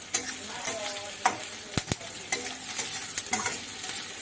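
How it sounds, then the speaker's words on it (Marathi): Garlic and onion sauté in a pan for a Malvani-style clam curry, with a steady sizzle broken by repeated scraping stirs of a spoon against the pan. "परतून घ्यायचा लसूण आणि कांदा टाकून."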